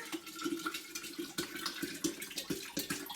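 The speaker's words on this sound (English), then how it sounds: "Next, all I do is pour in the water" Water is poured into a glass jar of raisins to make raisin vinegar, a splashing, gurgling stream close up with small rhythmic surges as the jar fills, with no voices.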